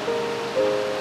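Fukiware Falls in Numata, Gunma, in autumn: a steady, fairly soft wash of falling water heard from a distance, with a faint tonal hum running through it.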